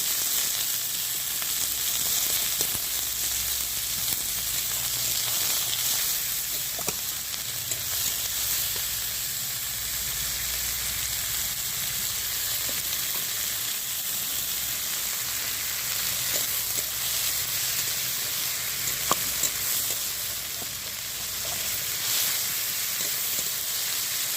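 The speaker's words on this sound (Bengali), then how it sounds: "লাল লাল করে আমার ভাজা পেঁয়াজটা হয়ে এসেছে।" Onions fry in oil until browned, giving a steady, close sizzle and crackle that runs unbroken for the whole stretch, with occasional faint stirring and no voices.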